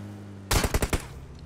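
Bursts of automatic gunfire crackle in PUBG Mobile, a quick rattling volley of about five shots, moderately loud against a quiet low hum.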